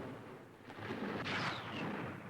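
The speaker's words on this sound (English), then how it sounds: "Suddenly, an explosion on the afterdeck." A bomb explodes on the afterdeck of an aircraft carrier during a 1942 air attack, a broad, rumbling boom that swells and lingers like distant thunder, with no voices over it.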